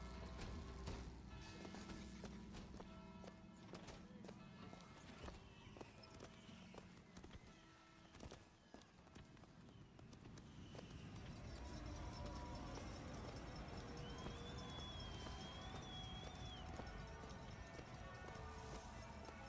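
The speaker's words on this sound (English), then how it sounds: "Horse." Horse hooves clip-clop in BioShock Infinite, a steady trotting rhythm mixed under game music and ambient sound, with someone talking over parts of it.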